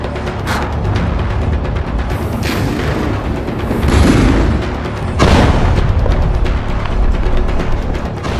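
Israeli air strikes and artillery pound Gaza in a loud, continuous wash of heavy booms and rumbling blasts, with several stronger explosions rolling into one another and no pause between them.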